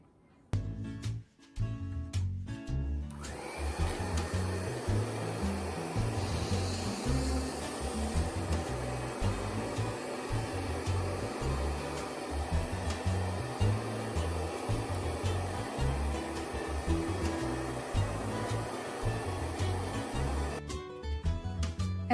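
A SOVARCATE professional hair dryer fitted with a diffuser blows in a steady, loud whooshing roar for about twenty seconds, with brief clicks and handling at the start and end.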